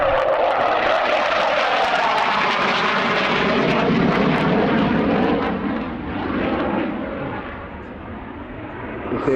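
A Saab J-35 Draken jet from the Swedish Air Force historic flight roars past at an air show, a loud, continuous broadband engine rumble and hiss that swells and then gradually eases as it passes.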